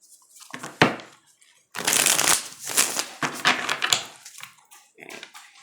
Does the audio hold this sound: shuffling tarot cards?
yes